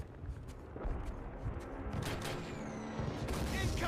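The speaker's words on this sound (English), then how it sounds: "And then mortars just started flying in." Mortar shells bursting in Call of Duty Classic on Xbox, a series of booming impacts and crackling blasts scattered across the clip at moderate loudness amid battlefield noise.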